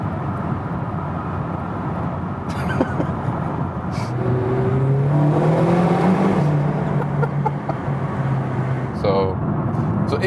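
A McLaren GT with a 4-liter bi-turbo V8 accelerates, its engine note rising and swelling steadily from inside the cabin, loud and continuous beneath someone talking.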